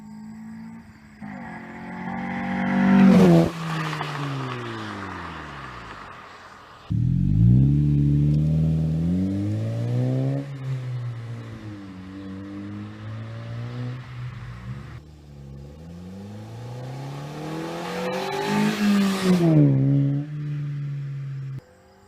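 A 2015 Subaru BRZ engine revs up loudly through rising gears, drops away, then pulls again in a long sweeping climb with several shifts, ending in a final hard rev and release; no talking.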